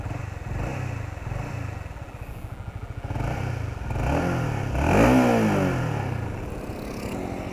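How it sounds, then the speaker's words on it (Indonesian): A 2016 Honda CBR150 sport motorcycle idles smoothly nearby, its exhaust giving a steady, quiet mechanical thrum with a brief rev swelling and falling around the middle before settling back to idle. "Suara knalpot, suara mesin itu halus."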